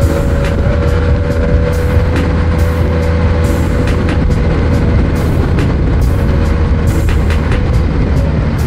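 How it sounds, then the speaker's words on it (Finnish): A bus pushes through traffic on the road between Jomtien and Pattaya, its engine a loud, continuous drone with a low hum, surrounded by traffic noise and sharp intermittent clicks and knocks. "Linja-auto tunkee vaan."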